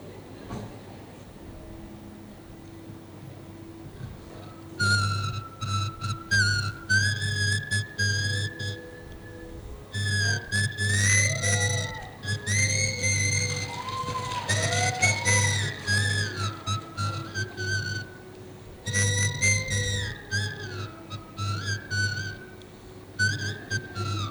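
A man whistles a song tune in clear, melodic phrases that come in bursts separated by short pauses, close and fairly loud over a low steady hum.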